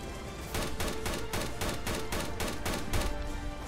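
Rapid bursts of gunfire in the video game Dread Scar, about a dozen evenly spaced shots in a steady rhythm, loud and close with no talk over them.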